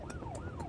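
An ambulance siren wails on an emergency call, its pitch sweeping up and down in a steady cycle, loud and close, with a constant engine and road rumble underneath.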